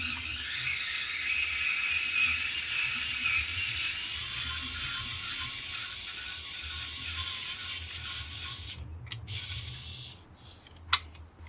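A Kaiweets ES21 electric screwdriver is turned by hand to break a long screw free, giving a steady ratcheting, grinding mechanical whir that ends in a few sharp clicks.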